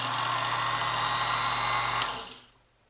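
A Speedex 9120RM key cutting and duplicating machine runs its motor with a steady, close whirring hum, then switches off and spins down to silence within about half a second.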